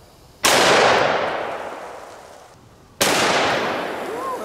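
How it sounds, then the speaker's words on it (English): Two very loud, close gunshots from a Smith & Wesson Model 629 .44 Magnum revolver firing 245-grain full metal jacket rounds at a water fountain outdoors, each blast trailing into a long fading echo. "44 Magnum is next. These are Underwood ammo, 245 grain full metal jackets, and we're gonna be using a Smith & Wesson Model 629."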